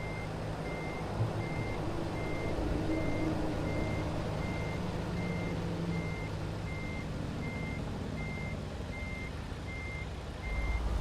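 Truck reversing alarm in a truck driving video game: a steady run of evenly spaced electronic beeps over a low engine drone for about ten seconds.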